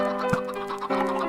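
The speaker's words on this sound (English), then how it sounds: "I'm going to feed all of these chickens" Minecraft chickens clucking and bleating in a short, dense cluster of overlapping farm animal calls, close and fairly loud.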